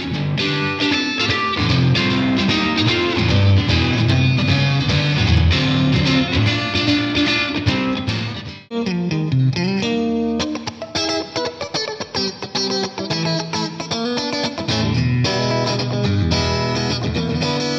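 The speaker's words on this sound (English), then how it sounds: "and of course if we add a little bit of dirt," Fender Modern Player Marauder electric guitar driven through distortion, a dense, sustained run of overdriven chords and riffs that stays loud throughout, with one brief gap near the middle before the playing resumes.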